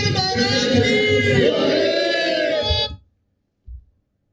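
A crowd of devotees at Satlok Ashram chants a slogan hailing Virendra Maharaj in loud unison, voices rising together for about three seconds, then breaking off into silence with one short burst after.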